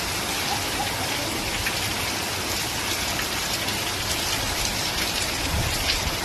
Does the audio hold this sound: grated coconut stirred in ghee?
no